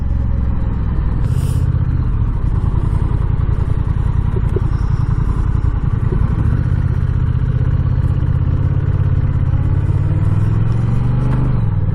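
A 2021 Honda Rebel 1100 DCT motorcycle engine drones low and heavy at low revs for a long stretch, then rises in pitch near the end; loud, close and steady, with wind rumble and no talking.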